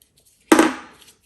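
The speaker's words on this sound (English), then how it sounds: "let's just go ahead and spray these and crinkle them" Paper scraps for shabby flowers are sprayed with water and crinkled by hand, giving one sudden close rustling burst that fades away within about half a second, with no talking.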